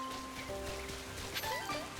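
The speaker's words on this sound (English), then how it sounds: "It might be because it's raining." Rain falls in Pokemon Legends Z-A as a quiet, steady hiss with scattered soft patter, accompanied by faint game tones and chimes.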